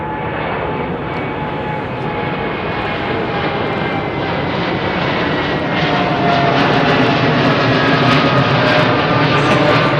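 A United airliner roars at London Heathrow Airport, a loud, continuous broadband engine rumble and whine that builds slightly toward the end, heard at fairly close range with no talking.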